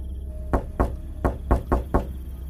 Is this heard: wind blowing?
no